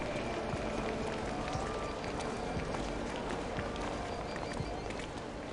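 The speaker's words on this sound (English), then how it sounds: "I can hear footsteps." In the city-building game Cities XXL, a dense wash of crowd footsteps patters continuously beneath steady ambient traffic noise, fairly loud and unbroken throughout.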